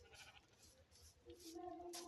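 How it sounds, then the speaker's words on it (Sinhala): Sheep bleating in the video game Minecraft, a few short, tonal bleats over a low background hum, the clearest cry near the end. "ආරේ ඉන්නේ බැටළුවෝ."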